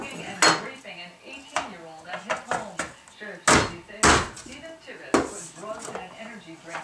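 Vidalia Chop Wizard chopping onion, a series of sharp plastic clacks and knocks, close and loud, repeated irregularly several times.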